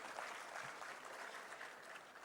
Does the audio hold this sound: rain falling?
no